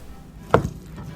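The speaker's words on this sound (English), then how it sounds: "Cut one piece into slices." A single knife cut through a piece of fried fish cake lands on a cutting board as one sharp, quiet chop followed by a soft second tap.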